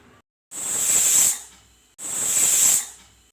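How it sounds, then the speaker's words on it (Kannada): A pressure cooker whistle vents steam while Hyderabadi khichdi cooks, giving two loud, sharp hissing blasts of just under a second each, separated by a short pause. "ಕುಕ್ಕರ್ ಮುಚ್ಚಳವನ್ನು ಮುಚ್ಚಿ ವಿಸಿಲನ್ನು ಹಾಕಿ 2 ವಿಸಿಲ್ ಬಂದ ನಂತರ"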